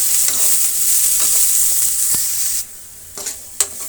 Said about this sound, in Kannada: ಈಗ ಚೆನ್ನಾಗಿ ಫ್ರೈ ಆಗಲಿ